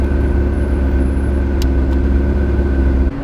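McLaren 650S convertible driving with the roof down, its engine giving a loud, steady mid-pitched drone with a constant hum and a couple of faint ticks, close up and unbroken by talk until a slight dip at the end.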